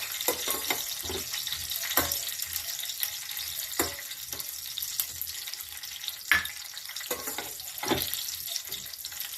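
Cashews and raisins fry in hot fat for kesari bath, giving a soft steady sizzle broken by sharp scraping stir strokes at irregular intervals, close and without talk.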